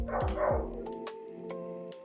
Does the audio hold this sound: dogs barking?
yes